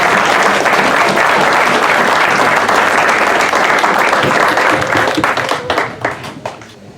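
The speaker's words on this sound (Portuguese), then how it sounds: "Acho que a gente pode aplaudir também" Loud, sustained audience applause at a Yom Haatzmaut reading of Israel's Declaration of Independence, a thick crowd clapping that holds steady before thinning into scattered individual claps and fading out.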